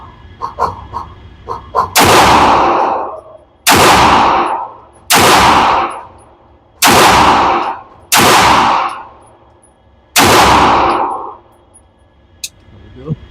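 Gunfire on a range day, with six loud, sharp shots fired at targets at irregular intervals of about one to two seconds, each ringing out with a long decay, followed by a single fainter report near the end.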